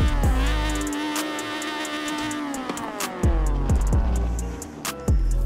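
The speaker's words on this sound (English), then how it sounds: "This is a 2-litre naturally aspirated engine generating 200 horsepower." Naturally aspirated 2-litre engine of a 2004 Honda Civic Type R in Forza Horizon 4, revving hard through rising gears with sharp shift drops, a loud, continuous, buzzing high-rpm wail.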